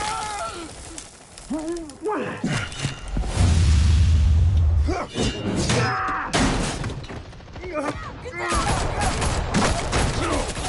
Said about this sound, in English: Can y'all not shoot at me?